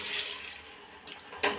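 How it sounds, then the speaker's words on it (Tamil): Water pours into a cooking pot for goat trotter curry (attukal kuzhambu) after salt has gone in, a soft hiss that swells into a short, louder splashing gush near the end. "தண்ணி சேர்த்து"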